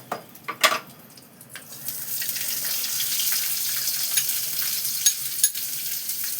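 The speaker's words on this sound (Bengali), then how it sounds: "তারপর এই যে পেঁয়াজ কুচনো, পেঁয়াজ কুচিটা দিচ্ছি।" Chopped onion going into hot oil in a pan while cooking a boal fish curry, a few clatters then a steady crackling sizzle that holds at moderate level throughout with small spikes.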